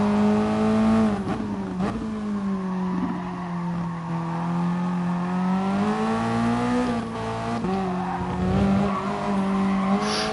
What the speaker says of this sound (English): Tyres are struggling.